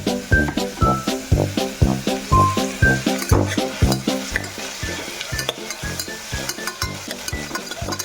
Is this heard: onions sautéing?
yes